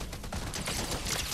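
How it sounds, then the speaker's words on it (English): Bursts of rapid gunfire from a Fortnite match crackle in a dense, loud volley, filling a short moment with overlapping shots. "Where? I hear shots."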